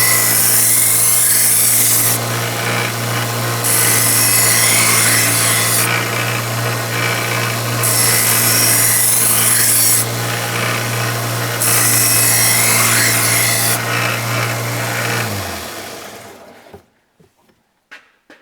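A blade is sharpened with steady rasping passes on each side against a sharpening stone, a continuous scraping rub with rhythmic bursts, running close and loud for about fifteen seconds before stopping.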